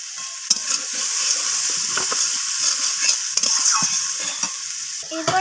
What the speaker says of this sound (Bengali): তো সমস্ত কিছু মশলা আমি পেঁয়াজ আর টমেটোর সাথে কষিয়ে নিচ্ছি।